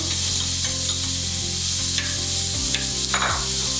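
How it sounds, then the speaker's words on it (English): Carrots and potatoes sizzle loudly in a hot pan with onions and garlic while being stirred, a steady crackling fry broken by a few scraping stirs of a utensil near the end. "we can now put the carrots and the potatoes. Just continue mixing."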